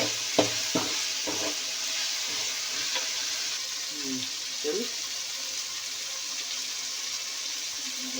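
Rice bath cooking in a pan over heat, with a steady sizzle of frying and a few scraping stirs of a spoon near the start, faint movement continuing underneath.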